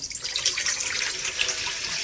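A kitchen tap running into a bowl to make acidulated water, a steady close splashing hiss of flowing water heard alone.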